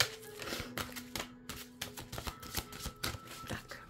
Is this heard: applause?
no